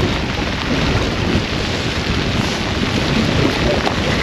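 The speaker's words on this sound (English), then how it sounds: "Forget the rain." Dense, loud broadband hiss of heavy rain pouring steadily while snapper fishing off Melbourne, with wind buffeting the microphone throughout.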